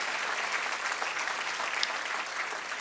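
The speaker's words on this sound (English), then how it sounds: "Please give them another round of applause." A dining-hall crowd at a chamber of commerce annual dinner applauds in a steady, full round of clapping heard from some distance.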